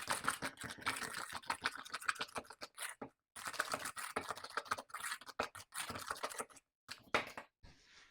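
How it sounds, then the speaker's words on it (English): Butter is creamed with a wooden spoon in a bowl for cake batter, rapid rhythmic scraping and tapping strokes close by, pausing briefly a few times. "cream your butter using your wooden spoon like this"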